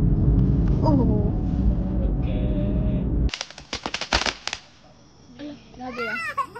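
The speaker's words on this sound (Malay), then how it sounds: "tengok bunga api tu" A quick volley of fireworks pops and crackles sharply, bursting several times in a row, with children's voices before and after the blasts.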